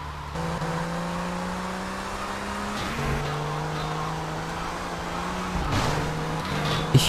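Steady car engine from a GTA Vice City drive, a constant hum with audible gear shifts and rising pitch as the vehicle accelerates, close and continuous throughout.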